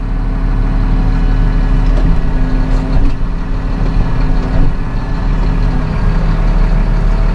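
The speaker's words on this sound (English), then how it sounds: "We'll give her some RPMs here" A Massey Ferguson 7715S Dyna6 tractor engine runs loud and close, a steady low diesel drone holding at raised RPM with little variation and no speech.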